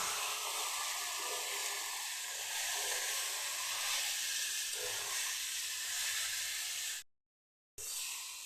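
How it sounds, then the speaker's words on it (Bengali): Spice paste mixed with water and ground ginger and garlic fries in a pan, giving a steady loud sizzle and hiss throughout, broken by a brief silent gap near the end. "এটা একটু কষিয়ে নেব।"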